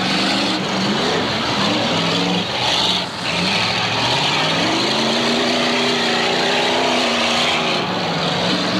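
Demolition derby cars revving and racing around a dirt arena, with engines rising and falling in pitch as several vehicles pass and grind nearby, loud and continuous.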